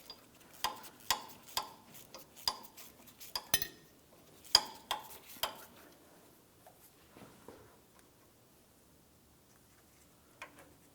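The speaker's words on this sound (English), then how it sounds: "I'll use a 10mm ratchet wrench for this" A 10mm ratchet wrench loosening a mounting bolt on a 2004-2015 Nissan Titan under the vehicle, a rapid series of crisp metallic clicks in short bursts, close and clear, then trailing off to quiet.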